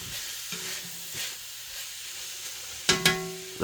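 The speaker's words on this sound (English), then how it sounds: "Give that a good stir around," Pork adobo mixture is stirred in a frying pan, a low sizzle with soft scraping strokes, then two sharp clanks of a utensil against the pan near the end, close and without voices.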